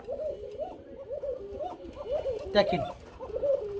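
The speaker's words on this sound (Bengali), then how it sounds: "বা সিরাজ কুকা বন্ধুরা কেমন ডাকে, এটা একটু খালি দূর থেকে শুনলেই" Fancy Sirajee pigeons coo repeatedly, a close string of soft, rolling, wavering calls that rise and fall in quick succession, with a voice briefly cutting in near the middle.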